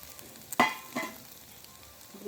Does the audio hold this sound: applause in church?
no